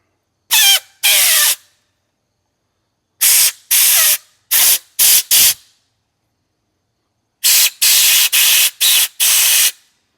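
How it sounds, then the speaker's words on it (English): An air compressor nozzle blasts air through the hoses of a 20-year-old Fimco sprayer in loud, close hissing bursts, first two short ones, then a group of three and a final quick run of five. "So I got the air compressor, and this thing has a lot of power."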